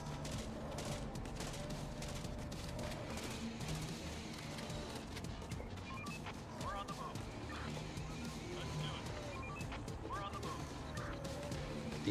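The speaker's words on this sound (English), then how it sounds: "The assault rifle is so powerful." Rapid bursts of assault rifle fire crackle throughout a zombie-survival game scene set in Fredrikstad Gamlebyen, Norway, with repeated sharp shots and impacts layered over continuous background game noise.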